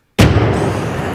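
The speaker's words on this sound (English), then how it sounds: "firing the cannon." A cannon fires one sharp, loud blast that booms suddenly out of silence, then rolls away in a long, fading rumble with no voices over it.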